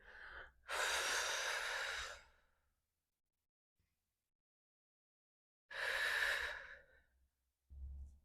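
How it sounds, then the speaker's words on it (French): Two deep, drawn-out breaths during a core workout, each a long airy exhale of about a second and a half, close to the mic and separated by near silence, with a short third breath starting at the end. "Belle inspire, expire."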